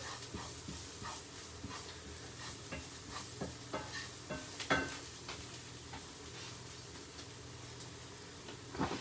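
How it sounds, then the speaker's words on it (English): Spices gently frying in a pan for a chickpea curry, a soft steady sizzle with scattered stirring clicks and scrapes, close and fairly quiet with no talk. "Just gently fry them to release the flavour."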